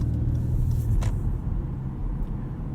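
A 2018 Acura TLX A-Spec cruises at night in Eco mode, its engine giving a steady low rumble with road noise close and continuous, revs held low and the cabin fairly subdued.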